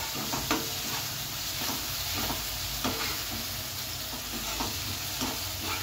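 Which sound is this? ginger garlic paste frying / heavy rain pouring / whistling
ginger garlic paste frying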